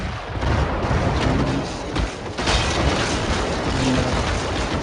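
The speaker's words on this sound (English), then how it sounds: "Lots of explosions" Dense, continuous rumbling booms and crackling blasts from the video game The Showdown Effect, loud and sustained throughout with brief dips between volleys.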